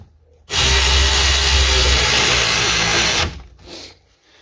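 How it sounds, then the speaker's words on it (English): A power tool tightens the rear sway bar link on an Acura TL, giving one loud sustained whirring burst of about three seconds up close, followed by a short softer whir and quiet. "then we'll go ahead and tighten up our rear sway bar link"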